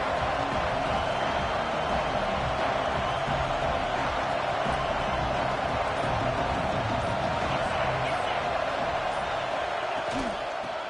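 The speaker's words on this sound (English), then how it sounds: "Here comes the noise from this big crowd in Happy Valley on 3rd down." A big college football stadium crowd at Penn State's Happy Valley roars on third down in a steady, dense wall of noise that holds for several seconds without letting up.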